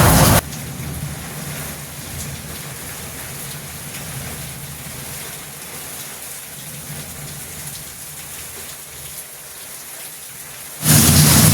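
Heavy rainstorm pouring steadily outside a balcony, a dense continuous wash of rain with low thunder rumbling beneath, loud and unbroken throughout.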